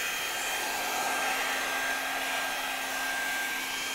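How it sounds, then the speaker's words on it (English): A heat gun blows with a steady, even whoosh of hot air as it shrinks a high-temperature-resistant heat shrink boot onto a connector, a constant close hiss with a faint tonal whine and no talking. "So you can see it shrinks quite quickly when you preheat the gun."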